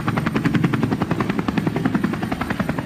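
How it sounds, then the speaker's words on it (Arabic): A helicopter sound effect plays loud and close, its rotor chopping in a fast, even pulse throughout the short stretch, with no talk. "يلا يلا هليكوبتر هليكوبتر هليكوبتر."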